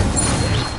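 A fire spell cast in Hogwarts Legacy on PS5: a steady, loud roaring whoosh of flame that runs unbroken for under a second.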